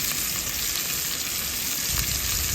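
Steak frying in a pan at a campsite at Potato Creek, Indiana: a steady, close, dense sizzle with no talking.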